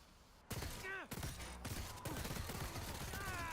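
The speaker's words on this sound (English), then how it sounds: "I'm bouncing bullets off of one of them to hit the other" Rapid bursts of video game gunfire crackle loud and close, rounds ricocheting off police officers, with clanking mechanical hits and a voice talking over the shooting.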